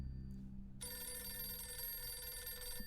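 A telephone rings inside a video game, a steady electronic ring that starts shortly into the moment and continues alone against a low background hum.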